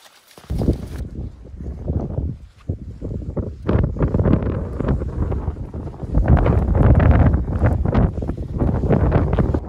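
Outdoor wind buffets the microphone in the Lofoten Islands, loud rumbling gusts that surge and drop for nearly ten seconds, growing heavier toward the end, with no one talking.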